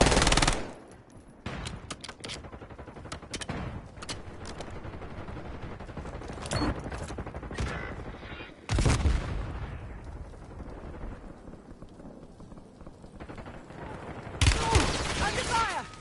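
Bursts of automatic gunfire in Call of Duty Warzone, with loud sharp shots and crackling volleys scattered over a steady background of battle noise and a few heavier impacts; speech is heard amid the shooting.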